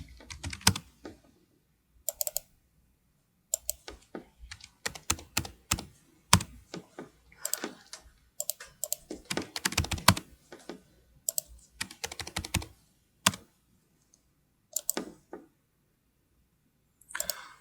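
Computer keyboard typing while an accounting voucher is entered in ERP software, sounding as close, crisp key clicks in quick bursts separated by short pauses, with no voices.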